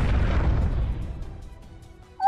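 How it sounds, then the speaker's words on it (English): A heavy boom from an explosion in the visual novel Piofiore: Fated Memories hits loud at once and rumbles away over about two seconds. A faint chime sounds at the end. "As the Direttore said that, we could hear a series of explosions."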